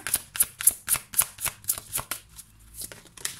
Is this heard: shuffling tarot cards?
yes